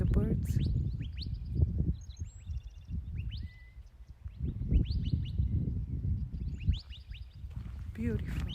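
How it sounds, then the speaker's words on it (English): Birds chirp and call near and far along a desert hiking trail, including a quail, in short bright bursts over footsteps and rustling. "Listen to the birds."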